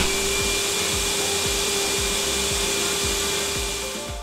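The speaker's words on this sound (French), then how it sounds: "je vais réaliser maintenant un test de bruit pour voir le nombre de décibels que l'aspirateur délivre" A powerful DeWalt workshop vacuum cleaner roars steadily about one metre away at roughly 89 to 90 dB, a loud even whine with a faint rhythmic ticking beneath, easing slightly at the end.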